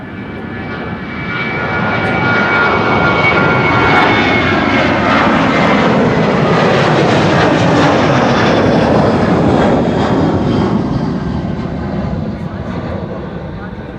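A KLM jet airliner bound for Copenhagen takes off from Amsterdam Schiphol, its engines building to a loud, steady roar that holds for most of the stretch before easing slightly as it climbs away.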